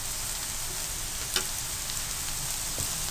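Dry hot spices fry with onions in a pan, producing a steady, even sizzle with a couple of faint stirring clicks and no voices.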